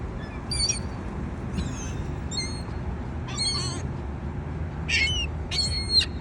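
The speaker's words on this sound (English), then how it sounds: "Yo, birds." Birds call outdoors in short, bright bursts of chirps and squawks, several separate calls over about six seconds against a constant background hiss and low rumble.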